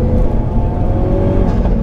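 A modified 400 bhp Mk3 Ford Focus RS, heard from inside, pulls hard in a lower gear with a loud, steady engine drone and a slight rise in pitch during a brief downshift.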